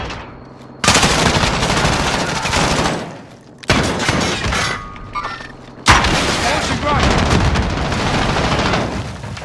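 Dense bursts of automatic gunfire and booming blasts in the video game Call of Duty: Modern Warfare, loud and close, coming in three long volleys separated by brief lulls.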